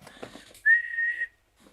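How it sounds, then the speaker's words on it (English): A single steady whistled note, held for about half a second and blown close into a microphone, follows a short stretch of faint noise. "Whistling into a microphone is fucking hard, man, because when you have this thing in front of you, it actually like prevents you from whistling."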